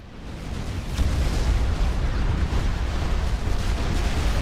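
A factory structure explodes in the video game Supreme Commander 2, giving a deep, rumbling blast that swells after a second and holds as a sustained, moderately loud roar with scattered pops through the rest.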